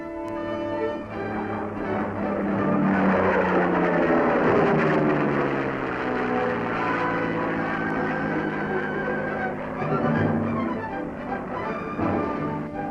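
A US Army propeller airplane flies low over an airfield during a pickup rescue experiment, its engine drone swelling loud as it passes close, then holding a steady roar as it climbs.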